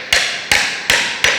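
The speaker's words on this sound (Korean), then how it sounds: "이 매직 라인에다가 콘크리트 못으로 망치를 이용해서" A hammer drives a concrete nail into a magic line strip during a DIY partition build, with four sharp, loud metallic strikes spaced evenly about every 0.4 seconds, close up and without talk.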